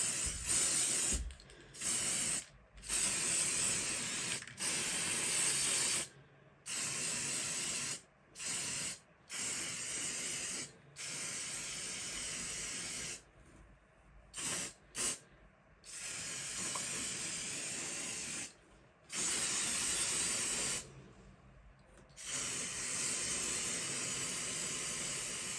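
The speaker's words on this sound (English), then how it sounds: "we just carry on spraying all the masks, you dummy Gemma." An aerosol spray can hisses in repeated bursts, coating masks and trays set on a large cardboard box, each spray lasting a few seconds with short silent breaks between them.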